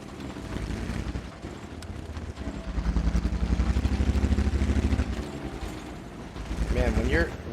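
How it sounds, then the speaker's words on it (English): Tank engine in the World of Tanks video game, a low droning growl that rises and swells in the middle, joined by wind-like rumble and a brief higher whine toward the end. "tank sounds like a Volkswagen"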